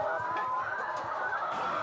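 Chickens in Vietnam during the 2006 avian flu outbreak cluck continuously and loudly, a dense overlapping chorus of a flock, with no talking.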